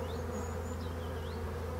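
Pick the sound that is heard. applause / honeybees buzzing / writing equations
honeybees buzzing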